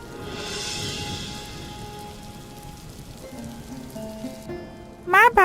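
Heavy stormy night rain pours in a dense, steady hiss on the surfaces around, loud and continuous, ending with a few brief high rising tonal calls.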